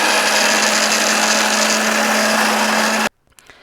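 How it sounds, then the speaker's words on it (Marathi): Mixer grinder blending lemon leaves into a paste, a loud steady whirring drone with a constant motor hum that runs without pause for about three seconds, then cuts off abruptly into near silence with a few faint clicks. "तर आपण पेस्ट करायला सुरुवात केलेली आहे, मिक्सर लावलेला आहे"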